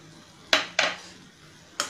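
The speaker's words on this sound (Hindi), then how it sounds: "और इसे भी हम लगातार चलाते हुए अच्छी तरह से मिला लेते हैं।" A spoon stirs curd into a potato and parwal curry in a cooking pan, making three quick scraping clinks against the metal, close and moderately loud.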